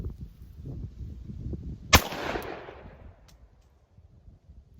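A Glock 29 fires a single 10mm hard cast round, one sharp loud crack with a short ringing decay over low background rumble, then quiet.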